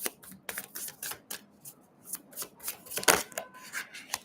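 Cards from a Bali tarot deck shuffled and handled close by, a quick run of crisp riffling and flicking sounds with one sharper snap near the end.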